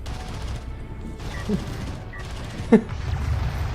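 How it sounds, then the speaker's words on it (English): In Homeworld: Deserts of Kharak, a railgun fires at a Sport Cruiser, landing one sharp, heavy shot over a low rumbling battle ambience and scattered fainter impacts. "So Railgun gonna pick him off."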